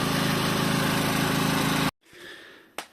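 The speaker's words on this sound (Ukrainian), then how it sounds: "Такий генератор. Нехай ще попрацює з півгодинки" A Kamatsu KS3800E petrol generator running close up, a steady pulsing engine drone that cuts off abruptly near the end, followed by a brief quiet and a single sharp click.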